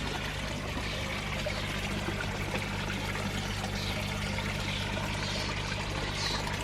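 Water pouring back into a garden pond from the return of a Nexus pump-fed filter, a steady, close trickling stream running continuously under a low mechanical hum, with no voices.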